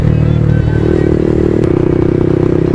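A Yamaha MT15 motorcycle engine runs steadily during a mileage test, its loud, close, even idle drone continuing without a break, with light mechanical clatter mixed in.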